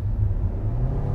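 A Hyundai Stargazer X engine pulls under acceleration with a close, loud, steady low rumble for a brief moment, with no speech over it.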